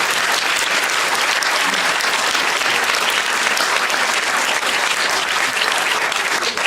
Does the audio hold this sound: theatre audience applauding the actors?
yes